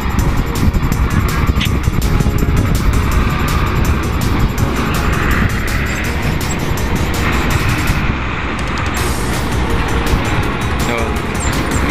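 A large truck rumbles past nearby in a loud, steady roar with rapid rhythmic ticking over dense road noise.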